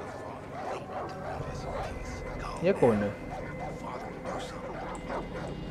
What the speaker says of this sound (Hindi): कुत्ते बुत्ते भोंक रहे भाई